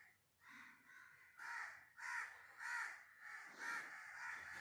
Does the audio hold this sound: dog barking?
no